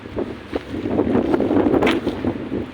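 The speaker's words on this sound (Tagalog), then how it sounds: "Kung gaano kalakas yung hangin dito." Strong wind roars steadily against the microphone, a dense rushing noise with gusty surges and no speech.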